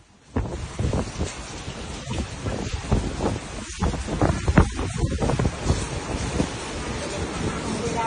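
Hurricane Otis, a Category 5 storm, batters Acapulco, Mexico with a steady roar of wind and heavy rain, constant broadband noise with gusty surges and thumping buffets across the whole stretch.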